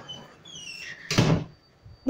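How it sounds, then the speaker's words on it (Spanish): A door shuts with a single sharp, close thunk after a quiet stretch with a faint whistle-like tone, followed by a soft trailing knock. "Ya cerré la puerta"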